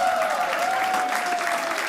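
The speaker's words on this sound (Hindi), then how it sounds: "एक बार जोरदार ताली हो चिराग के साथ।" A studio audience applauds for a contestant on a game show, a dense, steady wash of clapping that holds evenly throughout with a faint tonal whine running underneath.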